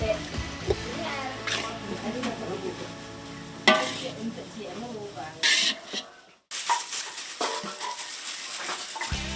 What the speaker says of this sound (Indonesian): tepung beras pun harus diolah dengan disangrai terlebih dahulu